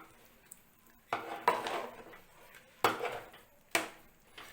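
A spoon scraping and knocking against a pressure cooker while onion and green chilies are stirred into rice, several separate clatters of metal on metal with pauses between, close by and no talking.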